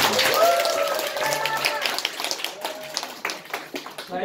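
Audience applause for a speaker after a two-hour business seminar, a crowd clapping steadily with overlapping voices and cheering at first, thinning into scattered claps toward the end.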